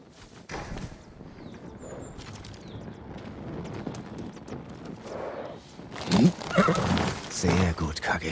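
Horse hooves galloping in the video game Ghost of Tsushima, a rapid clip-clop under spoken dialogue and ambient sound, swelling louder toward the end.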